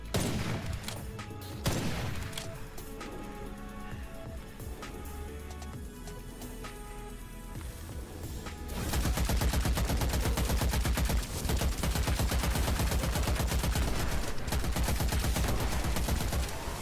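Video game gunfire rattles in dense rapid bursts, sparse at first and then a sustained loud barrage of automatic shots with booming low end.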